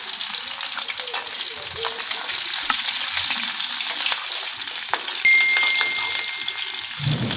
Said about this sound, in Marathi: हिरवी मिरची मस्त अशी तळून घ्यायची आहे